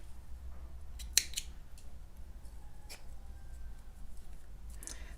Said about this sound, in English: now you're going to cut your yarn